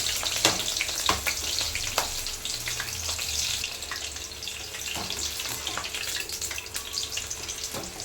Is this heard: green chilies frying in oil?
yes